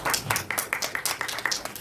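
Applause closing a journalism summit panel, several people clapping in a fairly sparse, rhythmic pattern, close and moderately loud.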